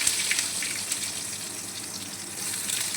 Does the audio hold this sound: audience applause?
no